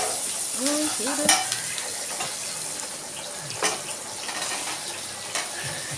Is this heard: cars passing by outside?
no